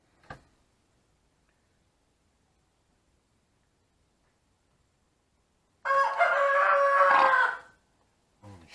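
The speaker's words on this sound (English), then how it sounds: "Tell the daggone roosters to be quiet." A single rooster crows loudly and nearby for about two seconds, after a faint click, with mostly quiet before it.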